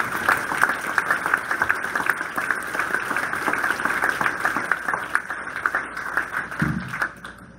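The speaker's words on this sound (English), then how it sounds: "One more round of applause for all of them." An audience at an induction ceremony claps for the inductees in a steady, sustained round of applause, moderately loud, with no talking.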